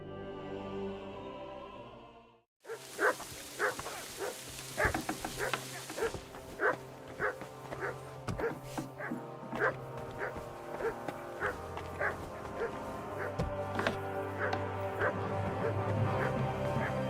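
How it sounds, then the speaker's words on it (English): A dog barks repeatedly in Kingdom Come: Deliverance II, sharp yaps recurring steadily over a dense game soundscape after a brief quieter opening, fairly close and persistent throughout. "I'm about to go out there and shoot a dog if he don't shut the hell up"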